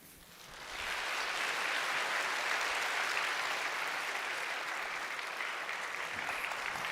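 A church congregation at a Sunday service applauds its newly appointed class leaders, a warm, dense wave of clapping that swells in within the first second and holds steady, loud and close, with no voices over it.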